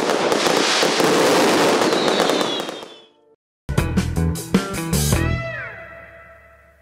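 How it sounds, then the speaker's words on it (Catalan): A fireworks castle closing the 9 October festivities in Aielo de Malferit, with a dense roaring barrage of bursts and crackle, a brief lull, then loud rapid bangs and whistling rockets nearby. "s'ha posat punt i final a la festivitat del 9 d'octubre amb un castell de focs artificials"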